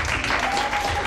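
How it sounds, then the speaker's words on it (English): Audience at a private academy graduation ceremony clapping for students returning to their seats, a brief burst of dense, fairly loud applause. "A round of applause for them."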